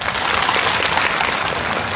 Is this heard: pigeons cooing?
no